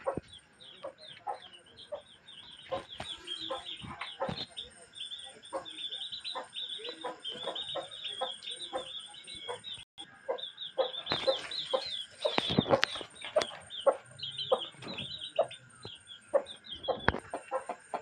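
Several chickens and chicks cluck close by in quick, busy bursts, a continuous farmyard chatter with scattered louder squawks and knocks, from a coop in the rainy season.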